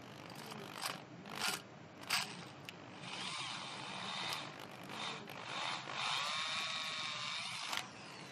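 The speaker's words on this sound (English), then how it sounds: "So just drilling the hole for the stainless steel air supply pipe." A drill bores a hole for a stainless steel air supply pipe on a homemade mini metal melting foundry, whining in sustained bursts with brief pauses and scraping, rattling handling sounds between.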